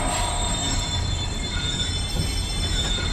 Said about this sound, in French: Ça bouge encore, Aubrey! Arrêtez le wagon!